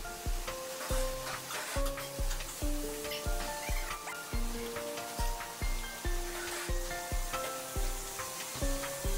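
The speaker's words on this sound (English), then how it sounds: "Fry for 5 to 10 minutes after turning the side of the meat." Lamb meat frying in a pan for a tandoor-style dish, a steady sizzle broken by regular, rhythmic knocks and scrapes of turning the meat, fairly close, with no voices.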